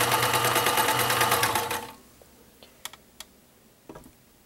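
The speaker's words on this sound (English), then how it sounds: "let's go to a stretch. Go, and you can see the fabric working up and back as it does the stretch stitch." Vintage 1980s Kenmore 158.1345 convertible low-shank sewing machine running a stretch stitch: a rapid, loud mechanical clatter for about two seconds that stops abruptly, followed by a few sparse clicks.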